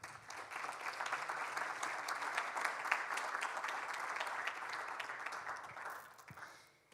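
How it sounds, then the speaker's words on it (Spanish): Audience at a financial conference panel breaking into sustained applause, an even wash of many hands clapping for about six seconds before tapering off. "Un fuerte aplauso, por favor"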